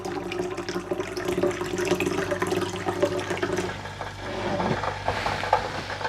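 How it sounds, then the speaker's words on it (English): Water runs and splashes steadily into jars of beans being prepared for pressure canning, a continuous gurgling flow that shifts in tone as they fill. "pour water in the jars"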